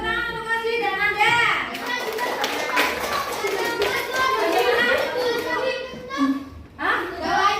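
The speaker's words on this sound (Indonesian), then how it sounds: "Tepuk tangan untuk Masih dan Anda." Children clap their hands together in a classroom, rhythmic taps mixed with lively kids' voices and chatter, the clapping swelling and fading over several seconds with an adult speaking near the end.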